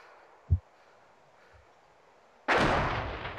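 Sudden loud explosion from bombardment in the video game DayZ, a single heavy blast with a long rumbling decay after a short quiet stretch holding one faint thump earlier.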